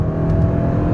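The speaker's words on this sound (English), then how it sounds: "I can accelerate out of a turn." A 2027 Kia Telluride with the turbocharged gas engine accelerates out of a turn, its engine note steady and loud from inside the cabin with a continuous road rumble and no talking.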